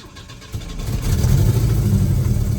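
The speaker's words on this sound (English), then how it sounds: "if you were to turn the vehicle on and do this" A car engine cranks and catches, then runs at a steady, close idle while the power steering is turned, with a low rumbling drone building after a brief start.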